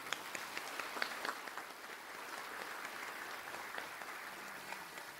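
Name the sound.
applause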